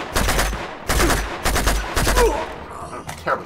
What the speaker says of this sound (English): What the fuck are you shooting at, Chloe?